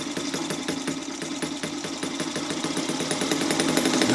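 A petrol four-stroke model boat engine runs steadily, a close, loud, fast rhythmic putter with mechanical rattle that builds slightly toward the end, no voices over it.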